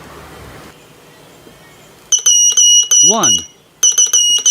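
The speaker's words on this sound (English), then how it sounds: "The sound came out from that buzzer." Small buzzer on a Pixie transceiver circuit board keyed in a few bursts, giving loud steady electronic beeps with even harmonics, separated by short gaps; a voice counts briefly before the first burst and a rising chirp-like voice sound appears between beeps.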